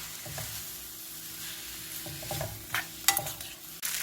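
A spoon stirs a sauce of brown sugar and sesame oil for Spam kimbap, scraping and clinking in short irregular bursts over a soft background sizzle, close and fairly quiet, no talking.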